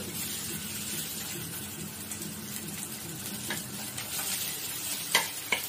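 Mashed leftover rice tipped into garlic frying in a pan for masala bhat, a continuous close sizzle with soft stirring and a couple of sharper knocks near the end, no speech.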